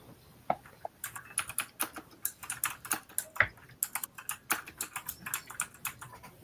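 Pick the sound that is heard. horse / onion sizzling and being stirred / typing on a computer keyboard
typing on a computer keyboard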